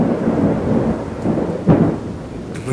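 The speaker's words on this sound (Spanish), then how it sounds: "Entonces empezó a llover." A rain and thunder sound effect rolls through with dense steady rainfall and a low rumbling crack near the middle, loud and close, with no voices.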